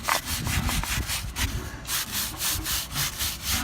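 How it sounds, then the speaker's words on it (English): A stiff brush scrubs freshly installed stone in a quick repeated back-and-forth rhythm, each stroke a close, harsh scraping rasp, continuing steadily without voices. "You just take a stiff brush,"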